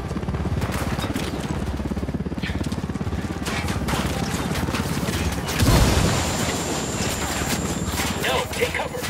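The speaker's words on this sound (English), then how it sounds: "Grenade!" Gunfire and a grenade explosion in the video game Tom Clancy's Ghost Recon Wildlands: a steady rattle of rapid shots runs throughout, with a heavier blast near the middle before the firing carries on loudly.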